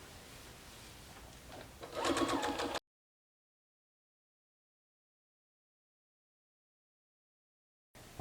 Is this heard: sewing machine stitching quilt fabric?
yes